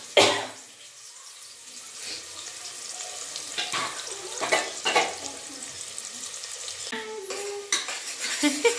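Chopped onions dropped into hot oil with cloves and cinnamon, sizzling steadily while a spoon scrapes and clinks against the pan in irregular strokes, close and fairly loud.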